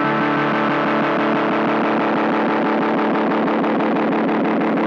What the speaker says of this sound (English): so short delay time and high feedback should do the trick